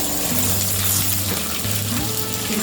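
Curry leaves hit hot oil already tempering urad dal, mustard seeds and cumin for an Andhra-style coconut chutney, giving a loud, close, steady crackling sizzle with no talk.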